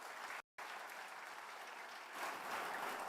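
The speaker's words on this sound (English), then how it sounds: "And I would say a loud round of applause, but we definitely have that going." Audience applause fills a conference hall at the ThinkEdu 2024 conclave at ITC Grand Chola: steady, dense clapping, fairly faint, broken by a brief silent gap before it swells slightly louder.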